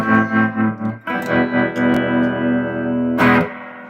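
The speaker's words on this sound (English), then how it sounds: "That's why I like this amplifier." Electric guitar playing through a hand-wired tube amplifier with a warm, slightly driven tone, a few plucked notes followed by a sustained ringing chord and a strum.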